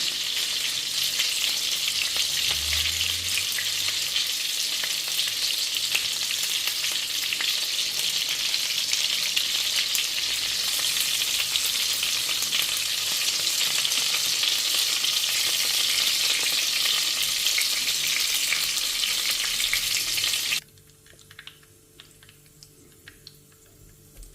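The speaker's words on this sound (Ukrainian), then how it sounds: "І нараз кладу жарити другий" Zucchini and chicken cutlets sizzle and crackle steadily in a hot pan for about twenty seconds, then the frying noise cuts off abruptly into near silence.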